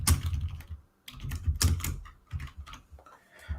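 Python code being typed on a computer keyboard: fast bursts of close, clattering keystrokes with a short pause partway through, continuing steadily to the end.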